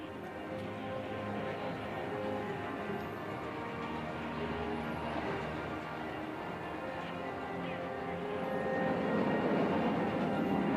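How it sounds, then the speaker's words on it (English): An Indian Air Force jet at the Marina Beach air show roars overhead, a broad, steady engine rumble that swells slightly toward the end, heard from the crowd on the ground. "There goes Wing Commander Arjun Patel, pulling up for a loop."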